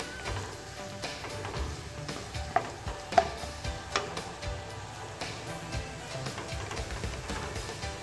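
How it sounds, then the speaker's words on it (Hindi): Onions softening in hot oil in a wok for an aatishi keema, giving a steady low sizzle with scattered clicks and scrapes of stirring, close and continuous without talk. "ऑयल चूँकि गर्म हो चुका है तो अब इसमें प्याज ऐड करती हूँ मैं।"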